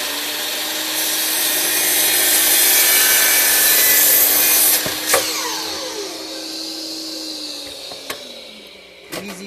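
A powered saw cuts through a piece of wood for a lazy Susan pedestal, a loud sustained whining cut for about five seconds, then the motor winds down with a few clunks and knocks as the piece is handled.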